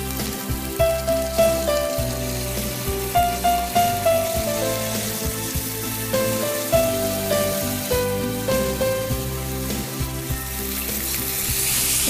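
Dried red chillies, peanuts and curry leaves frying in hot oil: a loud, continuous crackling sizzle with rapid popping spatters and repeated rhythmic clinks from a utensil in the pan, no talking.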